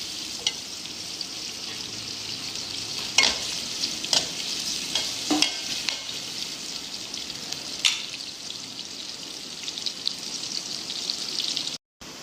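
Onions sizzle steadily in a hot pan for a potato curry, a continuous bright frying hiss with occasional louder scrapes from stirring, close up and with no one talking.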